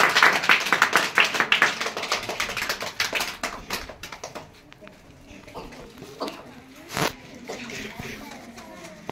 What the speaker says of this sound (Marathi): सर्व मुलांच्या वतीने पुन्हा एकदा त्यांचं मी हार्दिक टाळ्या वाजून आभार